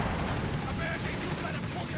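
Dense gunfire and machine-gun bursts from a Company of Heroes 3 match between Afrika Korps and US forces, with a Panzer III in the fight, continuous and loud, with a commentator's voice running underneath.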